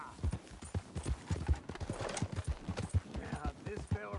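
In Red Dead Redemption 2, a horse's hooves pound in a quick, rhythmic gallop close by, and a brief whinny and snorting breaths break through the hoofbeats.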